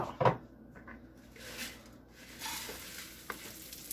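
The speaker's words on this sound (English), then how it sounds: "We're going to toast the rice in like butter and oil." Rice grains and almond slivers toast in butter and oil in a pan over medium heat, with a few stirring scrapes and a soft, steady sizzle that swells and fades.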